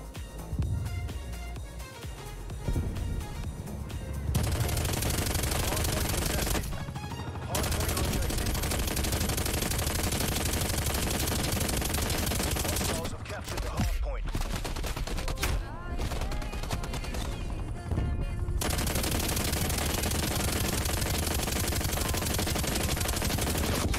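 Sustained loud automatic gunfire in a Black Ops Cold War multiplayer match, dense rapid bursts filling most of the stretch with brief pauses between volleys, with a player's voice talking over it.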